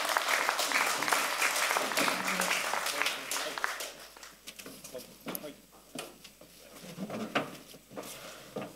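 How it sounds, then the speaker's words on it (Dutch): Audience applause at a political café event, loud at first and then thinning into scattered claps, with voices mixed in. "Mag ik een hartelijk applaus voor Wouter Helmer en Geert Versteijlen"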